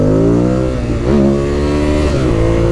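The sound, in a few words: Ducati Monster 821 motorcycle accelerating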